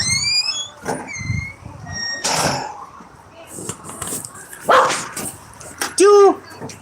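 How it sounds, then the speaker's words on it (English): A golden retriever barks indoors, a few sharp close barks and yips breaking through ongoing talk and household noise, with one loud burst near the end. "We already have one golden that will bark at people."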